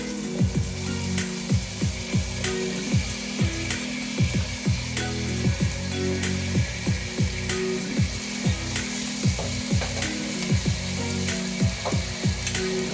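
Celery and chicken stir-frying in a pan give a steady loud sizzle, broken by repeated scraping clacks from stirring at an irregular rhythm, with no voices.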